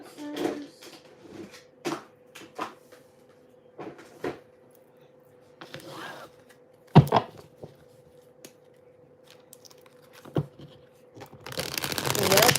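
Tarot cards being shuffled and cut by hand: scattered crisp slaps and taps at an irregular pace, ending in a loud, dense riffle, close and clear against a faint steady tone.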